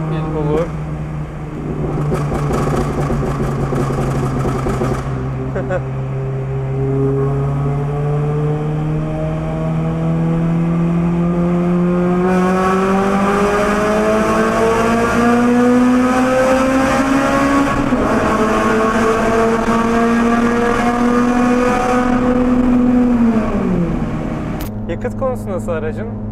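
Modified K20 engine in a Honda Civic Type-R FN2 revving hard and climbing steadily in pitch toward a high-RPM peak before cutting off, loud and close, with crackling exhaust pops and someone speaking over it.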